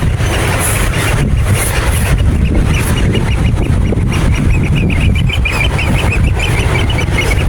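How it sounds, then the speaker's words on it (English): Continuous shrill piping calls from a group of oystercatchers on rocky coast in the Scottish north coast, rapid and overlapping, over steady wind or surf noise. "That is the sound of the little oyster catchers."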